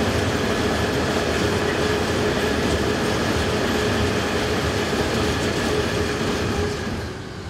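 Locomotives 193211 and 185523, on hire to Eco Rail, haul a southbound train past on a European main line, a loud continuous rumble of wheels and wagons that holds steady before easing slightly at the end.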